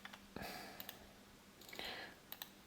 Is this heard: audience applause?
no